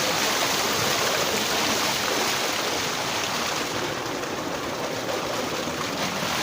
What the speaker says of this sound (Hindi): इधर पानी जा रहा है जी, मुंजी को पानी लग रहा है